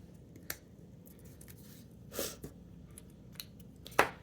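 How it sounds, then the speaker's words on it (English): Release paper is peeled off an adhesive backing while making a craft-fair hand sanitizer holder, giving a few quiet, brief rasping tears and small clicks spread across a soft, near background. "I'm just going to get that release paper off of there"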